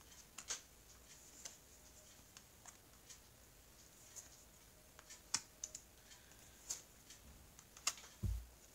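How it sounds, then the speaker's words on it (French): Tarot cards being shuffled by hand, a soft run of quiet, irregular clicks and flicks spread across the whole stretch, with a low thump near the end. "comme j'aime bien que mes cartes soient bien mélangées, ça demande un petit peu du temps"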